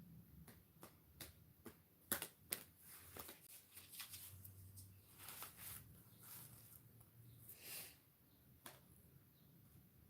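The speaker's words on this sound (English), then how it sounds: "I'm just going to shuffle the cards." A deck of tarot cards being shuffled up close, a quiet run of crisp riffling snaps and soft slides in irregular bursts, with no voices.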